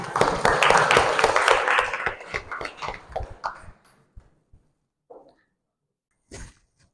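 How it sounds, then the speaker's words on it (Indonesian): Classroom applause for a pupil named Fajar at an Islamic school lesson, a burst of hand clapping that fades to scattered claps, followed by a brief quiet and one last short sound. "tepuk tangan untuk Fajar"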